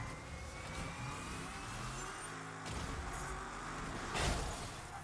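A truck engine in a vehicular combat video game hums and revs steadily, rising in a louder surge near the end, heard alone without talk.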